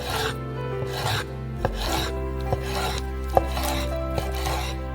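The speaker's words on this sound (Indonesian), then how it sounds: "Yang terakhir adalah paha ayam. Mari kita potong-potong." Chicken thighs being cut into pieces on a board, a steady series of rasping, scraping knife strokes with a few sharper chops, close and clear with no talk.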